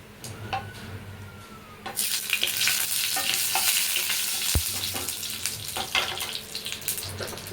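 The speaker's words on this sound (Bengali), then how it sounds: "কড়াইতে 1 চামচ তেল দিয়ে তার মধ্যে ফোড়ন হিসাবে রাঁধুনি আর সর্ষে দিয়ে দিলাম।" Radhuni and mustard seeds crackle in hot oil in a wok, starting quietly and then bursting into a loud, dense sizzle with sharp pops and a clank of a utensil midway.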